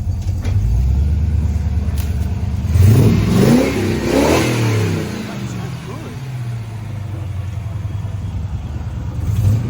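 An abandoned Nissan Skyline engine under restoration idles with a low rumble, then revs hard in a short, rising burst before settling back to idle. People talk in the background.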